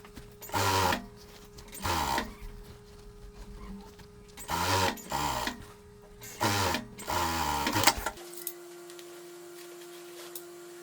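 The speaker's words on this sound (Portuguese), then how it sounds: "Então alinha as costuras, abre bem as costuras para não ficar grosso. E a gente vai costurar toda a parte de cima." A sewing machine stitches the top section of 1990s-style jeans, running in short bursts of fast, even stitching with pauses between, moderately close, then stopping as a steady hum remains.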